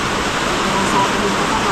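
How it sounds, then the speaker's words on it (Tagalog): Heavy rain pours down steadily at a farm during a harvest, a dense unbroken hiss filling the whole moment with no pauses or distinct drops. "Ay, lakas ng ulan."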